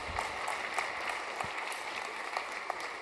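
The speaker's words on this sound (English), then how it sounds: "The production, yeah, clap that up." A conference audience applauds steadily throughout, a dense wash of many hands clapping with a few sharper claps standing out.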